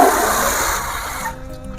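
Water is poured from close by into a pot of chopped cabbage and moong dal for Odisha-style dalma, making a steady rushing splash that stops abruptly partway through, leaving near silence.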